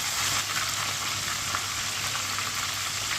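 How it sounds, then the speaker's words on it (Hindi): Chicken sizzles steadily as it fries in a pan, a dense, even crackle held close and fairly loud for the whole stretch with no voices. "दो मिनट के लिए ये वाली साइड से भी फ्राई होने देते हैं"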